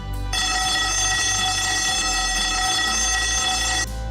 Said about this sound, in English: If you hear this alarm